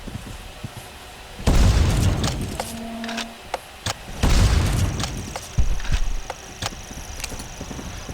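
Two heavy booming sniper rifle shots crack out a few seconds apart in Carnivores Divergent, each a loud close blast with a rumbling tail, followed by scattered lighter clicks and knocks.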